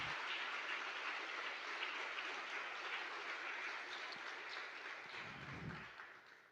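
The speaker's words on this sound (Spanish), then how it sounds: "denle un gran aplauso al Señor" A church congregation claps steadily during a Sunday service, a faint, even wash of applause that thins toward the end, with a brief low rumble near the close.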